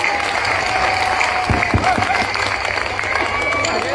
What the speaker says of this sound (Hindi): ताली बजाकर पूज्य बापू का अभिवादन करें।